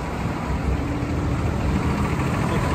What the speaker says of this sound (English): MB Trac's running, the Maxxum's running, the 77 is running.